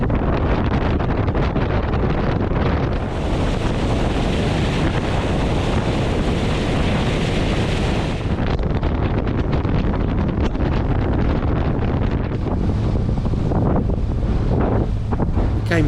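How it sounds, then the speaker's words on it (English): Sea waves and gusty wind at Batemans Bay, heard from a small fishing boat at low tide; steady loud wash of surf with heavy wind buffeting the microphone throughout, no voices. "Some solid waves here today."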